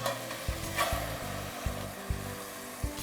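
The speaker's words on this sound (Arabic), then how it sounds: "هكذا نغطي عليها ونخليها تتقلى في غزه." Tabarna stew ingredients fry in a covered pan, a steady close sizzle with faint rhythmic knocks and scrapes of stirring and no talk.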